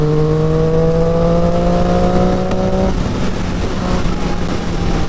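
Triumph Street Triple motorcycle accelerating hard on a rainy highway ride, its engine note climbing steadily over about three seconds, then shifting and settling into a sustained roar under strong wind rush, close and loud throughout.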